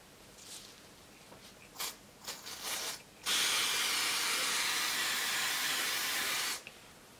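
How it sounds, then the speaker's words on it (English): L'Oreal Colorista temporary hair colour spray hisses from an aerosol can onto hair, a few short puffs followed by one long steady spray of about three seconds, close and fairly loud. "I sprayed a lot then."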